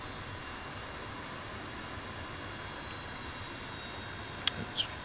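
Leonardo M-346 jet trainer taxiing in Microsoft Flight Simulator, a steady low engine rumble and hiss at idle power, constant and even, with a couple of brief faint clicks near the end.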